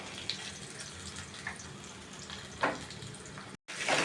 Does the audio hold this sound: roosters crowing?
no